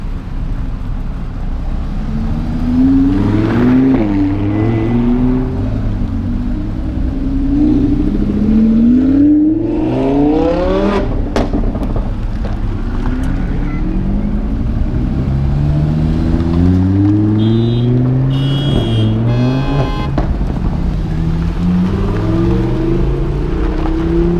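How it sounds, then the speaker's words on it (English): A Lamborghini Aventador LP700-4 in a Lamborghini Giro convoy in Chandigarh revs loudly and close, its engine note sweeping up and down through repeated climbs, with other engine noise blending in behind. "is my favorite from the group, the Lamborghini Aventador LP700-4."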